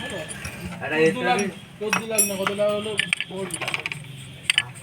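Small metal clinks and ratcheting clicks as a washer and nut are fitted onto the clutch of a Super Splendor motorcycle during a clutch plate change, close-up and sharp, with someone talking over the first half.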